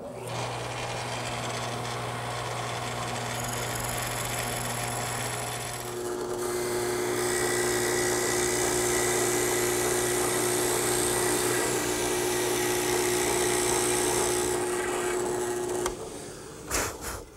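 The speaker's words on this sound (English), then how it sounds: "Now I'll just bore a hole about 6 inches deep." A 5-in-1 woodworking tool bores horizontally into wood for a garden swing, a steady loud motor whine with a sustained tonal hum that shifts pitch as the bit cuts in, then stops near the end.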